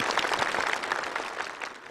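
Warm studio-audience applause at a televised military storytelling show, dense and steady clapping from a full hall that sustains for two seconds without pause.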